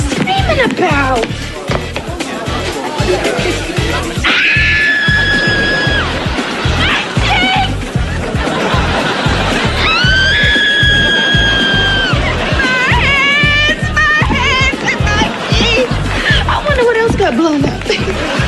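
People scream in a sitcom scene, several high, sustained shrieks rising over splashing and a busy mix of voices, music and laughter, loud and close throughout.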